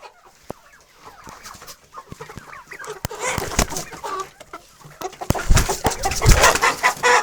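Young hens, roosters and turkeys at a Ukrainian farm, with several birds clucking and a rooster calling near the microphone, quiet at first, then growing into a louder, busy flock chorus.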